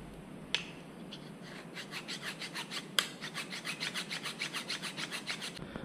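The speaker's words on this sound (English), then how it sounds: "Now I've been filing for a while." Close, steady rasping of a file worked back and forth across a worn copper electrical contact disc on an Oshkosh plow truck, about a dozen even rhythmic strokes in a row after a couple of sharp knocks, with no talking.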